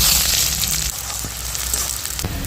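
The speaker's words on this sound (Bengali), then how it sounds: "পেঁয়াজ কুচিটা দিয়ে দিচ্ছি" Chopped onions dropped into hot oil with bay leaf and cumin, a brief close sizzle that flares at first and then settles into steady crackling frying.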